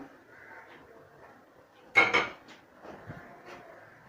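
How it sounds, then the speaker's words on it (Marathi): A metal lid is set onto a pot of simmering chole masala gravy, giving one sharp clank and a quick second rattle against an otherwise quiet kitchen. "आता याच्यावरती आपण पाच मिनटासाठी झाकण मारून ठेवायचं"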